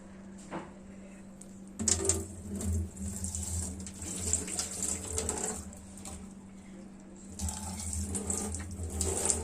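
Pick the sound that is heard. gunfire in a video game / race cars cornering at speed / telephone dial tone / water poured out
water poured out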